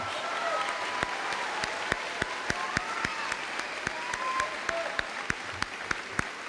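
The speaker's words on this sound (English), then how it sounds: "Please give a round of applause to these exceptional students" A graduation ceremony audience for the UHS Class of 2024 gives sustained applause. A broad wash of clapping runs throughout, punctuated by regular sharp, close claps from nearby hands.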